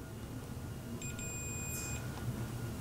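A multimeter's continuity tester gives a thin electronic beep of about a second while probing the vertical hold circuit of a faulty Journey arcade monitor, faint against a low background hum.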